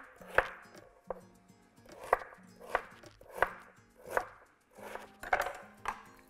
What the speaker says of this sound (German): Dann in eine kleine Würfel schneiden.